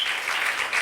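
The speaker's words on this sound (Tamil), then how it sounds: "கையை தட்டுங்க." A church congregation claps hands together in a steady, dense patter, moderately loud and close, with no voices over it.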